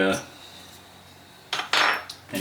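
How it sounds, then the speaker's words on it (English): A fresh hobby blade cuts photo-etch parts for a Tamiya 1/350 Fletcher-class destroyer model, giving a short metallic click at the start and a few sharp, close scraping snips near the end, with a quiet pause between. "It helps if you have a fresh blade when you're cutting the photo etch."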